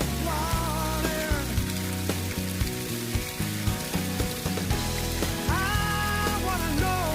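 Water falling 30 to 40 metres down a waterfall, a dense rain-like hiss that runs continuously under louder music, never standing out alone.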